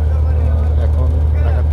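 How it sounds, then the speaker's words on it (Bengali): A passenger launch, a river ferry on the Meghna, Dhaleshwari or Shitalakshya rivers near Narayanganj, drones with a loud, steady low engine rumble throughout, heard close from on board with water and wind noise. "এই যে একটি লঞ্চ আসতেছে"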